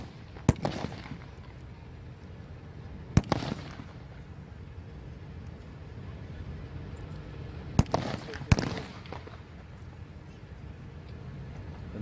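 Anti-tank gun firing during a live tank display at a museum event: four sharp distant booms in two pairs, each with a short rolling echo, over steady outdoor crowd murmur.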